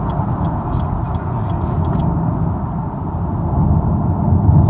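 Steady, loud road and engine rumble inside a moving 2019 Lexus UX 250h AWD hybrid above about 80 km/h, a dense low roar that swells slightly toward the end, with no talking.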